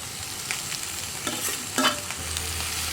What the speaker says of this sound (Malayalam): ഇതും കൂടി ചേർത്ത് നന്നായിട്ടൊന്ന് ഇളക്കി മിക്സ് ചെയ്യുക